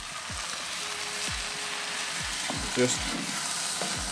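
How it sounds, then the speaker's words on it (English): Tomatoes are stirred into onions and peppers frying in a pan on a BBQ for shakshuka, a loud continuous sizzle with soft stirring scrapes and a brief clink, while a voice speaks briefly. "gently mix the peppers and onions through it"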